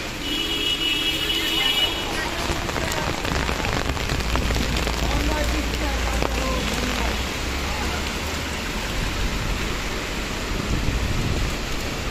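Drizzling rain falls in Dhaka as gusty winds from Cyclone Remal sweep the streets, a steady wash of hiss with passing road traffic blended underneath.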